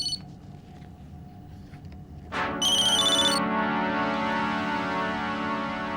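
A mobile phone ringtone starts up from inside a bag, a loud, steady electronic melody that rises in and keeps playing, preceded by faint beeps and room noise.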